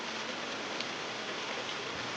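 Steady rain falls in a soft, continuous hiss, faint and even with occasional light ticks of drops, no voices present.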